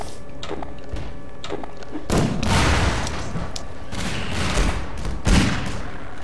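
Gunfire from a helicopter shooting down in Ravenholm in Half-Life VR: several sharp shots early on, then heavy booming bursts and thuds, loud and close.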